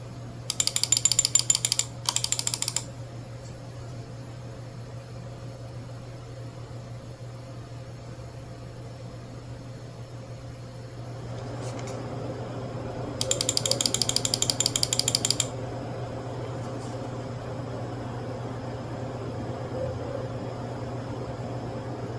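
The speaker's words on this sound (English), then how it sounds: "Let's listen to the noise of the system under load." A small PC case cooled by a single 80mm fan runs under load, giving a steady low hum with a faint constant whir, broken by two short bursts of rapid mechanical clicking early and midway.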